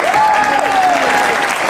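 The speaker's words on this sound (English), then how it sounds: "gives me a big round of applause" A concert audience applauds and cheers loudly for a band member at an Elvis tribute show, dense clapping crowd with a sustained voice or tone ringing above it.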